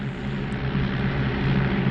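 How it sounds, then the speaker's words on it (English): A biplane's propeller engine drones steadily overhead, a continuous low rumble at fairly even loudness throughout, with no talking. "we've got a team of Spitfires above us. Biplane is not Spitfires"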